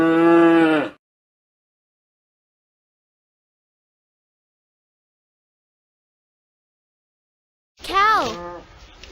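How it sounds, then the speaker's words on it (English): Two cow moos, one at the very start and one near the end, each loud and close with a long silence between them. "Cow."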